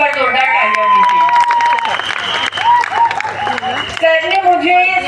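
Audience applause for Shahbuddin Khan at an event, a steady wash of clapping and crowd noise lasting throughout, with music and a voice over it.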